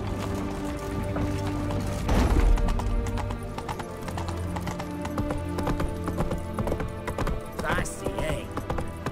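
Roach the horse galloping in The Witcher 3 video game, with steady clip-clop hoofbeats running throughout under music and game ambience, plus a brief louder burst near the start.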